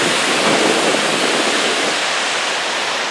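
River water rushes past at Näsåker, a loud, broad and continuous roar like a waterfall or rapids, close by and unbroken, with some wind buffeting and no talk.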